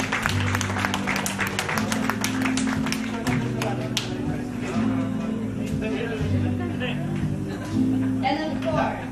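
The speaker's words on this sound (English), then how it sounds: "a big round of applause for Lola and the mother of the bride" Applause at a wedding welcoming the bride's grandmother and the mother of the bride, a steady crowd clapping that runs for about nine seconds under loud music and voices.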